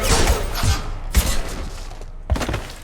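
Gunfire in the video game Mass Effect 2 cracks out in several heavy, spaced shots with booming thuds, loud and close, amid a dense battle din.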